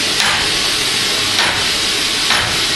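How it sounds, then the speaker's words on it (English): A treadle hammer fullers hot metal into a candle cup with a forming tool in a blacksmith's shop, three loud spaced strikes over a continuous bright hiss, about one blow per second. "making a candle cup using the treadle hammer"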